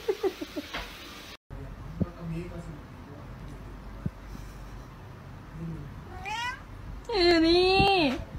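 A pet cat meows several times, the calls rising and falling in pitch, with a long, loud, drawn-out meow near the end after quieter sounds and pauses.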